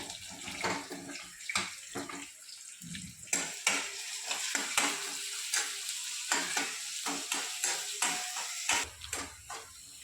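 Spices for bisibele bath powder dry-frying in a pan, stirred briskly with rapid scraping and rattling strokes in an uneven rhythm, close and fairly loud.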